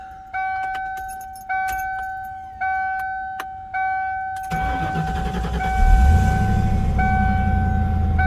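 Several evenly spaced warning chimes ring out, then the 5.0 V8 of a 1995 Ford Mustang GT SN95 cranks and catches on a cold start, settling into a steady, rumbling idle close by.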